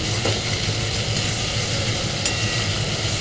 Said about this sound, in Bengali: মাটনের এই ইয়েটা আমি ভেজে রাখছি